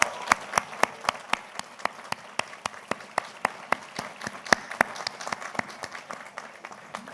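A graduation ceremony audience applauds steadily, with loud individual claps standing out in a brisk rhythm over the wider patter of hands.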